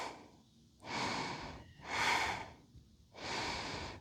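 Deep breathing while holding a reverse plank yoga pose outdoors in the mountains: three slow, loud breaths, each a broad airy rush lasting about a second, separated by short quiet pauses.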